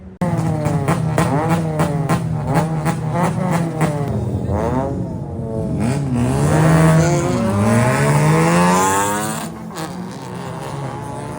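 A loud pickup truck engine revving up and down close by, its pitch rising and falling in sweeping surges.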